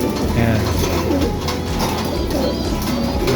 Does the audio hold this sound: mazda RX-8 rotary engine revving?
no